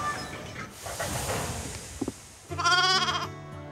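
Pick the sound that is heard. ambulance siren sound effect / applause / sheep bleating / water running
sheep bleating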